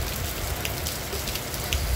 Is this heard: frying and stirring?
no